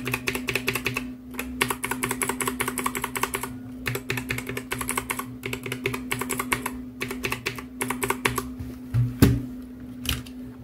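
Steady fast typing on a mechanical keyboard with brown switches, clear dense clicks and clacks with short pauses between bursts, close and moderately loud over a faint hum.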